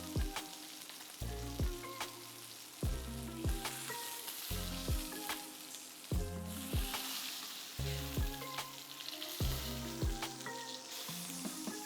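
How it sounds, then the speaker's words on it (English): A ribeye steak sears in a hot pan as its fat side caramelizes while held up with tongs, a steady sizzle running under loud rhythmic background music. "I just kind of hold my tongs, hold it up like this. Get one side nice and seared."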